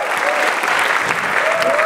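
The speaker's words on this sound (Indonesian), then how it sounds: "Tepuk tangan sekali lagi untuk Ernest semuanya." A stand-up comedy show audience claps steadily for a comedian, a loud, even wash of applause with a faint whistle-like tone running through it.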